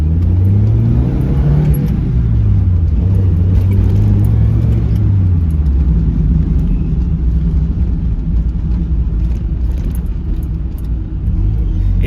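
Mazda Miata engine idling low at about 1,100 RPM after a botched previous repair, a loud, close, continuous rumble with a wavering hum, no speech.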